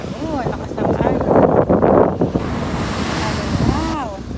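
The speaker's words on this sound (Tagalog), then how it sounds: "Super, lakas ng alon." Strong ocean waves at an island wash and roar close by with heavy wind buffeting the microphone, while a voice speaks briefly at the start and end.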